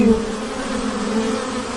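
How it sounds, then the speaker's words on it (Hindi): Bees hum in a mango orchard, a steady, close buzzing drone that holds evenly with no other sounds. "आम के बाग में मधुमक्खियों की गूंज।"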